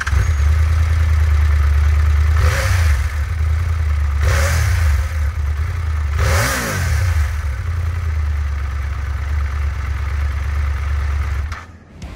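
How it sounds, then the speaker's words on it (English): A 2022 Triumph Tiger 1200 Rally Explorer triple-cylinder motorcycle idles with a steady, fairly quiet exhaust note, then revs in three distinct rising-and-falling blips before settling back to idle and cutting off at the end. "Because the 2022 Triumph Tiger 1200 Rally Explorer is a triple cylinder, the exhaust notes sounded different, not to mention quieter."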